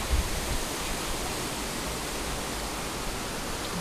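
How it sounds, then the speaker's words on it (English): A roadside waterfall along the Road to Hana on Maui pours in a steady, dense broadband rush, loud and constant with no voices. "Take pictures of waterfalls, play in the water."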